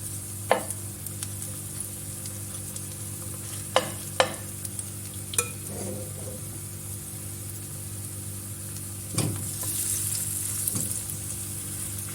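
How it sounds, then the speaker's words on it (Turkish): Zucchini fritter batter sizzles steadily in hot oil as spoonfuls go into the pan, with a few sharp utensil clicks over a constant low hum. "Yağımız kızdı. Şöyle kaşık kaşık ilave edelim."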